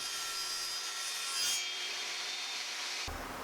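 A table saw rips through a wooden 2x4 with a steady, close-up wooden rasping whir for about three seconds, then the blade note shifts abruptly as the cut ends. No one speaks.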